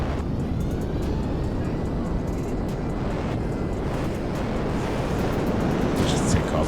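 A Lazer jet taking off in GTA 5 gives a loud, continuous roaring rush of engine and wind noise that holds steady across the whole stretch, with a few faint clicks on top.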